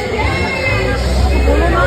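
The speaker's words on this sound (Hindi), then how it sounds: "भीड़ बहुत ज़्यादा है" Dense crowd hubbub in a busy market at Vaishno Devi, a steady wash of many overlapping voices close around the microphone.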